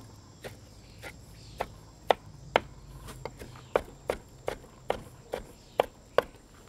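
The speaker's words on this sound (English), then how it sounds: "Now I'm going to chop my fruit." A knife roughly chops fruit for sangria on a cutting board, giving a series of about fifteen sharp, close, evenly spaced thuds that speed up slightly toward the end, with no voices.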